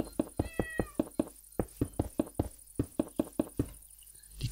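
A cat meows repeatedly nearby during a Minecraft session, its calls mixed with a fast, regular series of sharp clicking taps that continue throughout, fairly loud and up close.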